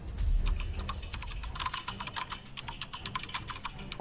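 Very fast typing on a computer keyboard, a dense, rapid rattle of key clicks heard fairly close and steady throughout, with no talking.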